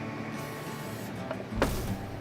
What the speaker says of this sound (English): We give them a quick spray